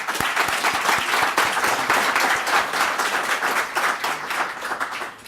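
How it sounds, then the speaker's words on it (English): A crowd at a community nominating meeting bursts into sustained applause, dense steady clapping from many hands filling the room for several seconds. "I think we should give them all a round of applause."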